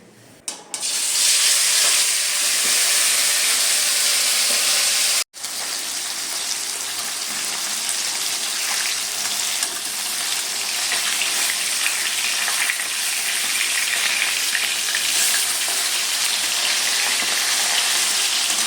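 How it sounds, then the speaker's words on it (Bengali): Fish fries lightly in a pan at home, giving a loud, steady crackling sizzle that runs without a break for nearly twenty seconds after a brief clatter, and no one speaks. "এই যে মাছটা একটু হালকা ফ্রাই করে দিয়ে"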